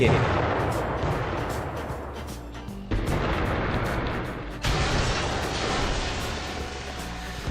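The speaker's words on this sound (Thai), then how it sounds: "ภูเขาไฟระเบิด" Dense, continuous booming rumble with heavy blasts rolling on without pause, a volcano eruption in the video game CitySmash, loud and unbroken for several seconds.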